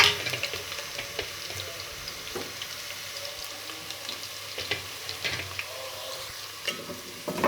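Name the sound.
sliced garlic frying with browned onions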